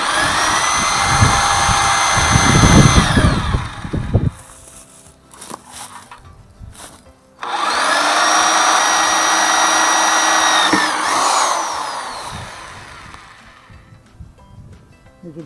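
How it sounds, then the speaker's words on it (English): A power drill bores a hole into a part for a shop-made logging winch, whining loudly in two sustained bursts separated by a quieter pause with clanks and handling sounds. "we're going to start off trying to drill a hole in them"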